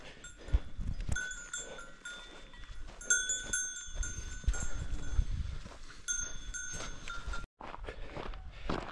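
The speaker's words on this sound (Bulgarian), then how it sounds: "Я, крави." Cows wearing cowbells on a mountain trail during a long trail run, a scatter of clear metallic clanks ringing irregularly at close to middle distance, with footsteps and outdoor ambience and no talk.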